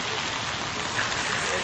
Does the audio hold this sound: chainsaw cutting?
no